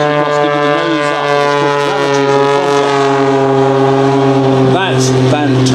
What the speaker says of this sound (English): that's the sheer power of that 260 horsepower engine